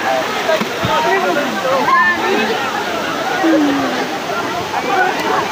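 Daranak Falls roars in a continuous, loud rush of falling water and splashing at a crowded swimming spot, with voices and chatter audible over the steady wash.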